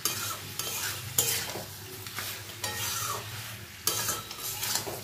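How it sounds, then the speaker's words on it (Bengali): Pieces of fish head fry with potato and pointed gourd in a pan, a continuous sizzle broken by several loud scraping stirs and clanks of the spatula against the pot. "এবার মুড়োটাকে দিয়েও আমি আলু পটল এর সঙ্গে ভালো করে কষিয়ে নেব।"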